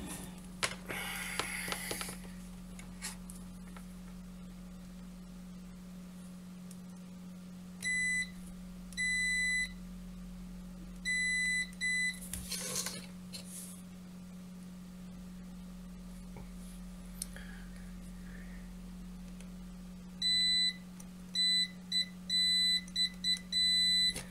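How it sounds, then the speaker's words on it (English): A multimeter beeps during a continuity check on a Nintendo Game & Watch Parachute circuit board: short bursts of steady electronic tones, some single and some rapid repeated pulses, over a constant low mains hum on a quiet workbench. "So I'll just recheck that with the multimeter, just to make sure that I've not shorted anything out before it dries."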